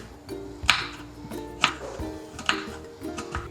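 A knife cuts raw mango into small pieces, striking a cutting board in a steady series of crisp, close chops with soft scraping between them; no one speaks.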